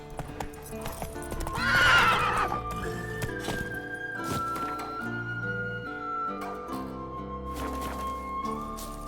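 A horse in The Witcher 3 lets out a loud, close whinny, then its hooves clip-clop steadily over a layered orchestral game score.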